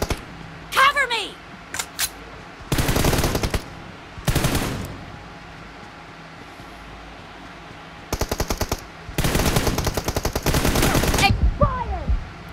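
Automatic gunfire from the mobile game Battlegrounds Mobile in a team deathmatch, with several loud rapid bursts and scattered single shots over steady game ambience, and voices heard briefly.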